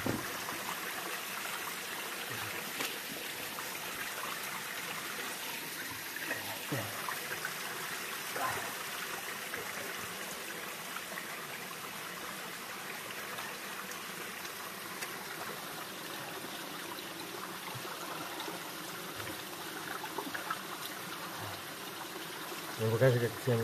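Steady trickling of underground spring water runs continuously, a soft broadband wash close by, with faint voices and occasional thumps in the background.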